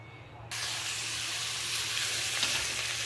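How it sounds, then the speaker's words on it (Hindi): Vegetables with green chilies hit hot oil in a pan and burst into a loud, steady sizzle that starts abruptly and keeps hissing close up without pause; no voices. "तो यहाँ पर मैंने ये सारी सब्जियाँ डाल दी हैं, अब ये इसको अच्छे से फ्राई करेंगे।"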